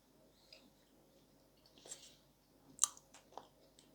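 Bashkir clay known as khrum-khrum crunching as it is chewed up close, with a few soft crisp bites and one sharper crack in otherwise quiet surroundings.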